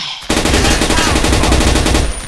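RPK machine gun fire in the Blockade 3D shooter game, a loud, fast, sustained burst of rapid rattling shots starting suddenly and running nearly two seconds, close and dominant.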